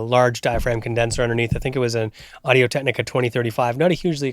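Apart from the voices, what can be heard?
None of the usual background noises is heard.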